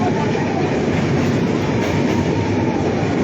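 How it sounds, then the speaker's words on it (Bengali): The Darjeeling Mail train rolls into New Jalpaiguri junction station, a loud, steady, dense rumble of wheels and carriages that fills the whole stretch. "আমাদের দার্জিলিং মেল এখন ঢুকছে NJP, new Jalpaiguri railway station জাংশনে ঢুকছে।"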